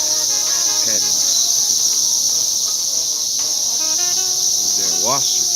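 Locusts buzzing outdoors during a Memorial Day burger cookout, a loud, continuous high insect drone that fills the whole stretch, with a couple of brief rising chirps standing out briefly.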